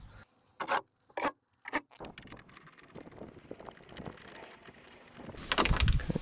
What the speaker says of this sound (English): We'll just get 3 of these bolts to hold it on.